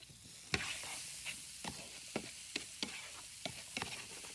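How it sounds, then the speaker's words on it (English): Vegetables, broccoli cuts, sautéing in a hot pan on a stovetop after a pinch of salt and pepper, with a steady crackling sizzle broken by repeated sharp scrapes and clicks of stirring, close and unaccompanied by talk. "just going to saute those for just a minute."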